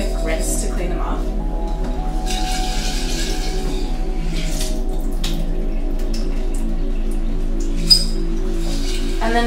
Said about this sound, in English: I'm just going to give the seeds a quick rinse to clean them off.